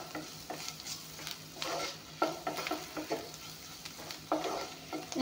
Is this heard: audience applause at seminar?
no